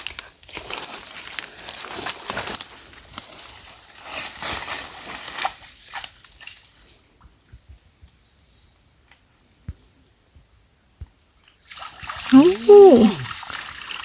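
Water splashes and trickles while small fish are washed by hand outdoors, rising and falling in bursts with a quiet stretch in the middle and a loud splash near the end.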